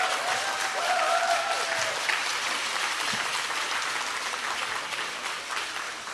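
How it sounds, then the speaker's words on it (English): A crowd gives a sustained round of applause at a grand opening press briefing for a restorative care village. The clapping is dense and even across several seconds, with a brief faint tone near the start. "I'd just like to give it a round of applause that we got to this point so fast and so quickly."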